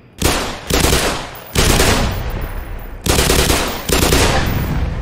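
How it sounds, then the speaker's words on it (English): Automatic gunfire in the video game Black Mesa rattles out in four loud, sustained bursts separated by brief pauses. "I'm going to shoot those out."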